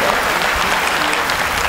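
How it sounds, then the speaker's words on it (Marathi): Audience at a kirtan breaking into sustained, dense applause, a steady wash of clapping from many hands filling the whole stretch with no pauses. "टाळ्या वाजवू द्या."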